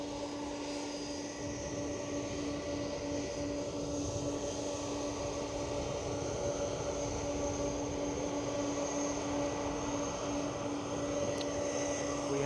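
An EasyJet airliner on final approach at Edinburgh Airport drones as a steady, faint engine hum with a sustained whine, distant and unbroken throughout.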